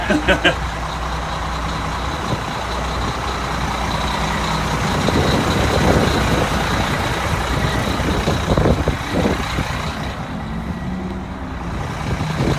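The front-mounted engine of a used RV runs steadily at a Manheim auction lot, a continuous low rumble under nearby talking and background noise.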